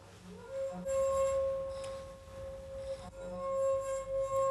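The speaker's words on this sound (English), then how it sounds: "if we try it on the rim of a wine glass, the skin will still vibrate and produce a screeching sound" A wine glass rim rubbed with skin gives a steady, sustained ringing tone that holds throughout, briefly breaking and restarting, with a faint screech over the resonance.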